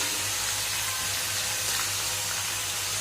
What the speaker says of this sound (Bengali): ভেজে নিতে, একটু ব্রাউন কালার করবো রসুনগুলো